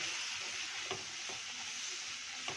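Turmeric and red chilli powder sizzle in hot oil while a spoon scrapes and stirs the pan with a few soft, irregular knocks over a constant frying hiss.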